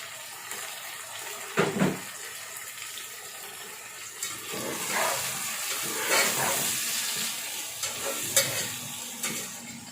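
Chopped tomatoes tipped into a hot pan for aloo matar pulao, sizzling and frying steadily with splashes and stirring scrapes, close and fairly loud, no speech.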